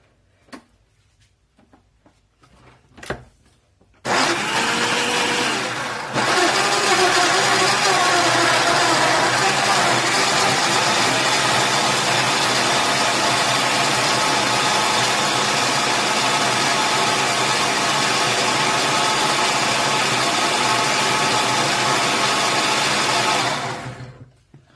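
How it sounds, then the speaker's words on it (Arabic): A Moulinex blender grinds strawberries with sugar in its jar, running steadily and loudly for about twenty seconds after a few faint knocks, then cutting off abruptly. "كنطحنوه في الكاس ديال مولينكس"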